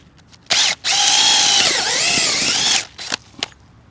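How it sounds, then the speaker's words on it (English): A power drill with an auger bit whirs loudly for about two seconds, its pitch dipping as the bit bites into soil, with brief bursts before and after. "I really like this drill."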